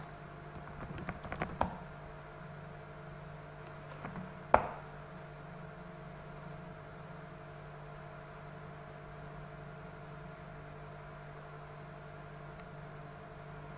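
A few quick keystrokes on a computer keyboard entering a terminal install command, faint and close, clustered in the first seconds and followed by a long stretch of quiet room hum.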